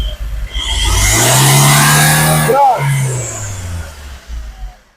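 A Fiat Doblo 1.3 Multijet diesel engine (Euro 4, loose exhaust manifold bolts) is revved up, rising steadily to a loud sustained roar, then dropping back toward idle, heard up close alone.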